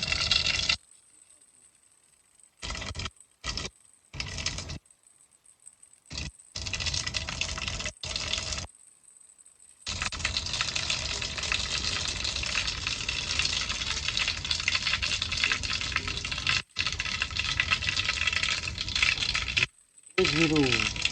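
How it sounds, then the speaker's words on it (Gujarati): Mustard seeds are dropped into hot oil while cooking a Gujarati sibhda vegetable dish, setting off a loud continuous sizzle and crackle that runs for many seconds between short silent cuts. "તો હવે આપણે રાઈ નાખી દઈએ।"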